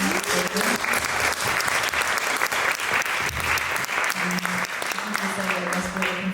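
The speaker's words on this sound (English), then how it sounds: "So can I just get a round of applause for" A steady round of audience applause at a talk, dense and continuous clapping throughout with faint voices mixed in.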